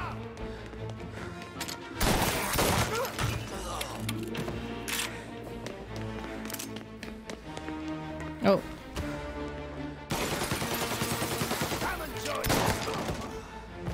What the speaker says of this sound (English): I like the shotgun.